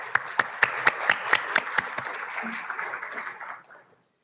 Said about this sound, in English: we would like to applaud you all for your amazing efforts.